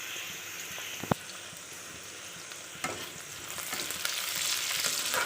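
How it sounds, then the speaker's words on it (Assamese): Sliced onions fry in oil already used for frying fish, giving a continuous close sizzle that grows slightly louder. A sharp utensil clink sounds early on, with light stirring. "এতিয়া মাছ ভাজা তেলতে পিঁয়াজ ফ্ৰাই কৰি আছোঁ।"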